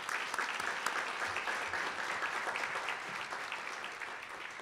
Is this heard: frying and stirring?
no